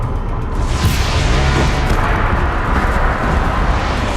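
A heavy cannon in the video game Horizon Zero Dawn fires a loud, booming blast that rolls into a dense, rumbling roar and holds steady for several seconds with no voices over it.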